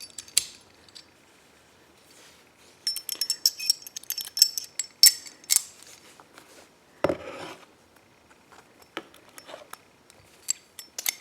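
Rifle bolt carrier group being put back together: a run of sharp metallic clicks, clinks and sliding parts in quick irregular bursts, close and fairly quiet, with no voices.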